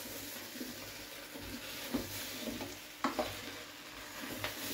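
Corned beef hash fries in a pan with a steady, quiet sizzle, broken by a few soft scrapes and knocks as it is stirred around.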